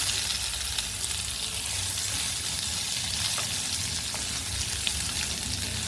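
Boiled horse gram and curry leaves sizzle in hot oil with a dried red chilli in a frying pan, an even, close hiss that holds steady for about six seconds with no speech.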